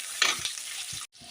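Onions with cinnamon and cloves sautéing in hot oil for chicken gravy, a close steady sizzle with a few stirring scrapes, a brief gap near the end before the sizzle resumes.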